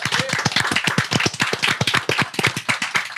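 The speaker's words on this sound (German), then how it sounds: "Hier wieder sehr großen Applaus an den Fabi, der hier alles live erschneidet." A small group applauds a live editor on a podcast, with quick, steady handclaps filling the moment, close and fairly loud, with no talking over it.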